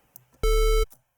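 A distorted synth bass tone layered with higher harmonic tones sounds as one sustained, buzzy, gritty note lasting about half a second, loud and alone.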